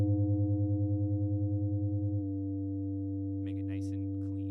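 A steady sine-wave tone from Ableton's Operator FM synthesizer hums, pulsing slightly at first, then holds flat while a voice speaks briefly over it.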